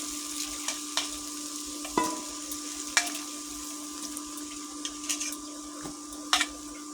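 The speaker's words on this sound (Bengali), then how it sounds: "ডাঁটা আলুর সাথে পেঁয়াজ রসুন ভেজে নেব" Drumstick pieces, potato, onion and garlic frying together in a pan, a soft continuous sizzle with occasional sharp clicks and scrapes of stirring, no talk.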